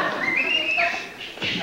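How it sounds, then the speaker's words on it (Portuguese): Whistling from a studio talk-show audience, a shrill sliding whistle rising and held, followed by further scattered whistles amid crowd murmur, fairly close and moderately loud. "Eu vou fazer uma pergunta a vocês que estão assobiando."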